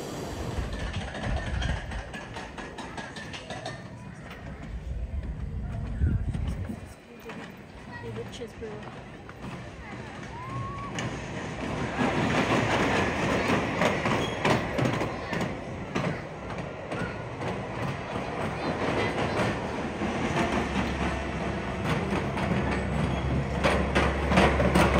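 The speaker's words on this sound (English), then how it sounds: "Pretty much a walk-on to the Creepy Crawler, little Pinfari coaster." Creepy Crawler, a small Pinfari roller coaster at Oakwood Theme Park during an after-dark event, its train rattling and rumbling along the track in a steady, loud clatter, with people talking over it.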